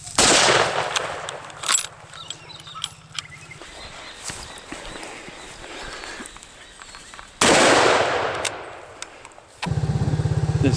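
Shotgun blasts fired at running game, loud sharp bursts near the start and again later, separated by quieter outdoor rustle and footsteps, with a low mechanical hum at times.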